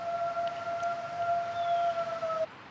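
A siren outside holds two steady, sustained tones that glide slightly downward near the end before cutting off abruptly, heard continuously and fairly clearly over a faint background hiss.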